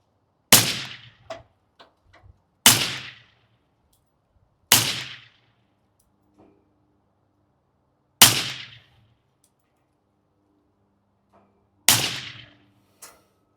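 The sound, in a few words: Ruger LC Charger firing 5.7x28 Elite S4 ammunition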